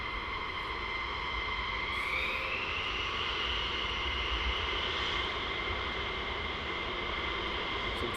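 Military jets of the 492nd squadron taxi out at RAF Lakenheath during night flying, a steady far-off engine whine and broad roar holding level throughout, with no voices.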